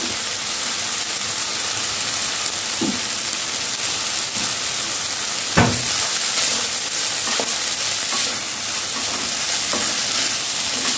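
Cumin and coriander powder sizzling in a pan of hot oil, roughly a teaspoon added while making paneer polao, a steady close frying hiss with occasional soft stirring scrapes and no voices.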